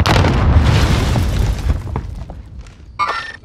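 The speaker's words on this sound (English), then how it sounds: "Launching rocket. Positive contact." Rocket launch and explosion in Call of Duty: Warzone, heard as a loud, heavy boom that rolls and fades over about two seconds, followed by quieter crackling hits and a sharp burst near the end.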